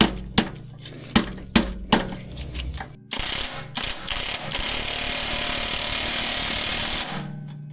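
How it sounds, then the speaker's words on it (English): Impact gun working on a Mazda MX-5 during a beginner build: several sharp bursts, then a sustained loud rattling hammering run lasting about four seconds before stopping, close and alone with no talk. "I'm using an impact gun, I don't care."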